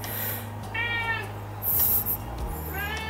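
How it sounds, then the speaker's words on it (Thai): A cat meows indoors in a home, several short tonal cries spaced across a few seconds, fairly close, with a high squeak and low background hum but no talking. "เสียงแมวนะลูก"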